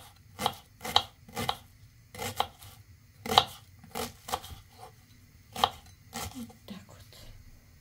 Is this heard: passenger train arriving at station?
no